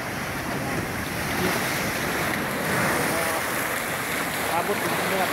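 Sea waves churned up by the first northeast monsoon winds wash and break close to a small boat, a steady loud rush of surf mixed with gusting wind across the microphone, with no pauses throughout.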